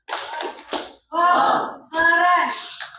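Children clap together in a rhythmic burst, loud and close, followed by a group of young voices chanting "Wow, keren" in unison.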